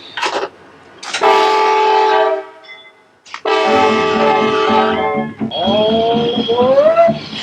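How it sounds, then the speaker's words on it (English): A train horn sounds loud and close as the locomotive departs: a long blast, a brief pause, another sustained chord, then a wavering final blast that bends in pitch, with no talking. "What is it that makes us pause to listen to the cry of a faraway whistle?"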